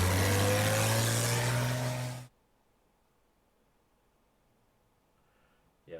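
Armored car moving in the Hex of Steel war game: a loud engine drone with a rising pitch that cuts off abruptly after about two seconds, then near silence.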